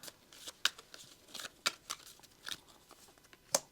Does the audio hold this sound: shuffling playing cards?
yes